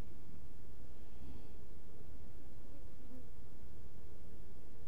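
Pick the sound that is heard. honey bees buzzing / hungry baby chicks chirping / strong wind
honey bees buzzing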